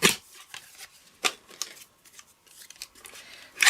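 Fabric being trimmed with scissors while quilting, a few crisp close snips spread out in short bursts, with quiet pauses between cuts.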